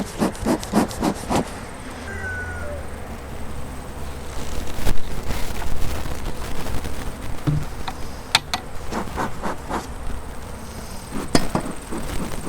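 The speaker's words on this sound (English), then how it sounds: "A lot of bees on the entrance of this one" Honey bees mass at a hive entrance, their steady buzzing hum running throughout, broken by several sharp knocks and scraping clatters of hive parts being handled close by.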